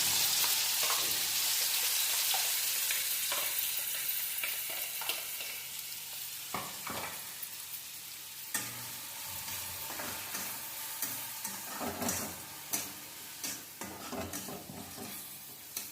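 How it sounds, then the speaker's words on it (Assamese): Chopped spices fry in a little oil in a wok, a steady hiss that fades somewhat over time, broken by occasional stirring scrapes and clinks, with no voices. "এতিয়া কেৰাহী এটাত অকণমান তেল দি অথনি আমি চপ কৰি লোৱা মছলাখিনি দি দিম।"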